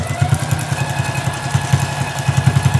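A domestic sewing machine stitches along the edge of a fabric origami tote bag, giving a steady low mechanical whir with rhythmic pulsing bursts as the needle runs, close and continuous.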